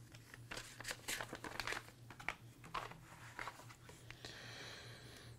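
Paper crinkling and rustling as a Mortal Kombat 2 poster for the Sega Master System is folded up, a run of soft crisp crackles spread over several seconds against a low steady hum.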